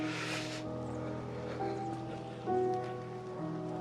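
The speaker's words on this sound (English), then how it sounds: "It's starting to rain." Rain beginning to fall outdoors, a steady soft patter of drops over a low sustained hum and faint tonal background, fairly close and without voices.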